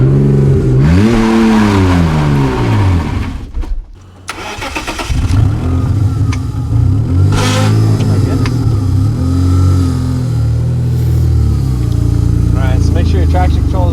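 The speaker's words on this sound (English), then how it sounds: "basically just revving it up and dumping the clutch" A BMW E46 manual drift car revs hard and dumps the clutch for a burnout, with loud rising and falling engine revs, a brief dip, then sustained roaring wheelspin, with someone talking over parts.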